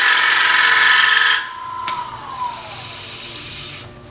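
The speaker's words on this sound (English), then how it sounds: "I can slow the lathe down by holding onto the bowl" A wood lathe spins as a bowl gouge cuts a bowl, giving a loud hissing shear that suddenly drops away, leaving a quieter whirring hum with a descending tone as the lathe slows.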